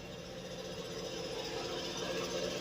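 An engine idles with a steady, droning mechanical hum and faint rattle, close and unchanging throughout.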